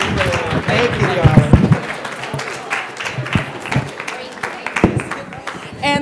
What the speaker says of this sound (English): Let's give our pioneers a round of applause